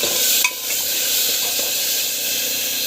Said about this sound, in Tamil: இது வந்து பார்த்திங்கன்னா நல்லா வந்து கலக்கி விடணும்